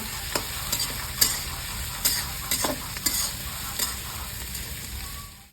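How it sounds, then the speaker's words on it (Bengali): Chopped onions frying in hot oil until browned, a steady crackling sizzle up close with several sharp stirring knocks and scrapes, fading out at the very end, no talk. "বন্ধুরা পেঁয়াজটা আমার অনেকটাই ভেজেছে কালারটা আবার চলে এসছে বাদামি কালার"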